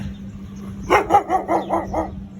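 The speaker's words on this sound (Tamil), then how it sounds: "எவ்வளோ நாய் இருக்குது பாருங்கள் எல்லாமே பெரிய பெரிய ப்ரீடு தெரியுதா உங்களுக்கு" Large-breed dogs on a farm in Dubai bark in a quick run of about six loud barks, close by, after a quiet start.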